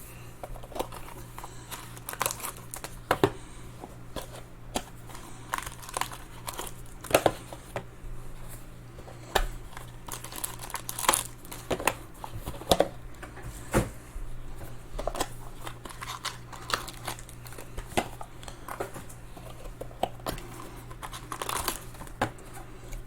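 Satin-finish baseball card boxes and their wrapping are cut open, giving scattered close crinkles, scrapes and sharp snips in irregular bursts over a quiet low hum, with no talking.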